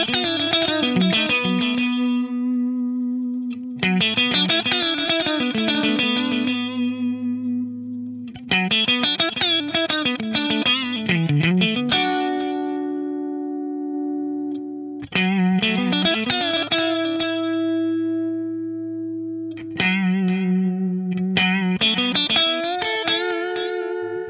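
Electric guitar phrases run through a Fractal AX8 delay with threshold and attenuation settings, so the echoes duck while notes are played and swell back in the gaps, with a distorted, chorused tone and sustained trailing repeats across several phrases.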